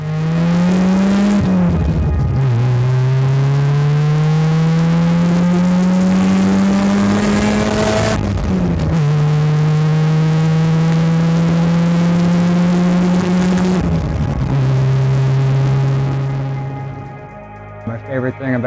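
A Mazda FC RX-7 drift car with a rotary engine revs hard and loud, its pitch climbing in long sweeps broken by quick drops at each gear change, a sharp high whine riding above the buzzing exhaust throughout.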